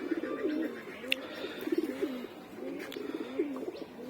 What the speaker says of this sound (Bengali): বেশ কয়েকটা অতিথি কবুতর আসছে আমার বাসায়